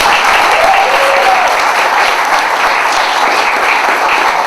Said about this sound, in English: So give them a round of applause for the great panel.